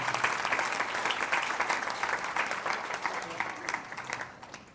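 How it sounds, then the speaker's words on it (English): An audience at a Hindu temple (mandir) claps in a steady, moderately loud round of applause that fades toward the end. "So they deserve a wonderful round of applause."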